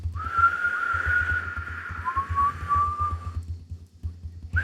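A person whistles long, sustained notes, the first held steady and the second gliding slightly upward, imitating long whistles from an album, with a soft rhythmic low thumping underneath.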